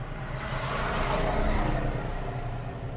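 A used Bajaj Pulsar 150 motorcycle in good condition idles steadily at a Jaffna second-hand bike sale, a continuous low engine hum with broadband noise and no talk.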